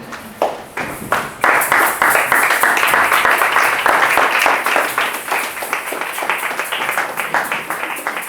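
A church congregation applauds and cheers in praise of the Lord, a dense, loud burst of clapping that swells quickly after a few scattered claps and holds steady, with voices mixed into the ovation.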